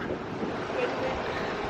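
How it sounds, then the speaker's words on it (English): Steady wind at Blackpool Pleasure Beach amusement park buffets the microphone in a constant low rumble, with a faint open-water wash beneath it and no pauses. "It is a bit windy, isn't it?"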